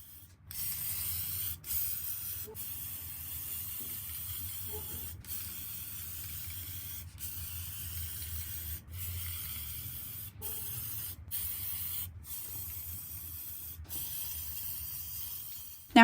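Aerosol spray paint hisses in long continuous bursts across thrifted glass vases, each blast steady and close, separated by short pauses between passes.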